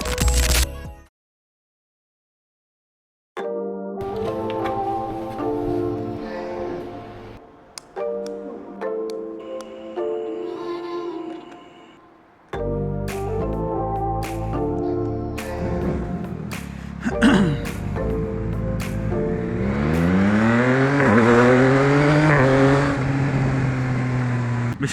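A Yamaha XSR900 motorcycle engine revs in sharp bursts after a brief silence, then pulls away with rising pitch as it accelerates through gears.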